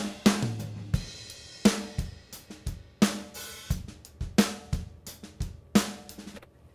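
An open, natural, uncompressed drum kit plays a steady groove, punchy kicks and snare hits ringing out with cymbals between them, no voices.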